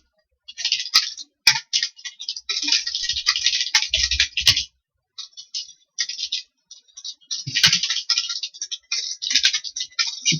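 Rapid typing on a computer keyboard, with dense bursts of clicky keystrokes broken by short pauses and a few heavier key thumps, close and fairly loud with no talk.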